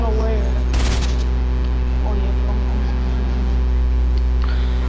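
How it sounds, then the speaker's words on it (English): A burst of video game gunfire, a quick rapid volley early on, sits over a steady loud game soundscape with a low hum, while players talk over voice chat. "Oh, I accidentally shot."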